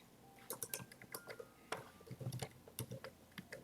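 Fingers tap out a short command on a computer keyboard during a Hack The Box exercise, a quiet irregular run of clicky keystrokes with brief pauses between bursts.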